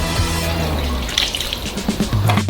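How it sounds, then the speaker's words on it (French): Cooking oil, 300 ml, poured onto a giant dough of 4 kg of flour for an oversized homemade Nutella Go snack: a close, continuous liquid trickle and splash with some uneven gurgles toward the end. "Versez 300 ml d'huile"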